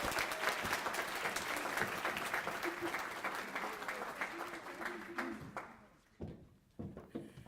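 Enthusiastic audience applause at a college convocation ceremony welcoming a guest speaker to the stage, a dense, steady wash of clapping from many hands that fades out near the end.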